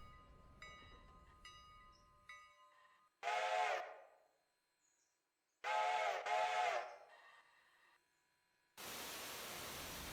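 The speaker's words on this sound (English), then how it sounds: "Actually hear the bell now." Locomotive bell in the Railroader train game, heard in two loud bursts of ringing tones separated by quiet, over faint wheel and rail background, ending in a burst of steady hiss.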